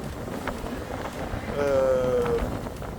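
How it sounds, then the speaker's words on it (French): Strong wind of about 22 knots roars across the microphone in gusts aboard a Bavaria sailboat off Greece, with a brief tonal whine from rigging or hull partway through. "on a du vent qui monte à 22 nœuds"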